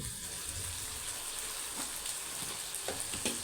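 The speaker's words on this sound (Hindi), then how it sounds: "अब मसाले को भून लेंगे।" Spices roasting in a pan for an aloo matar shorba, a steady soft sizzle with a few faint stirring clicks, close and continuous with no talk.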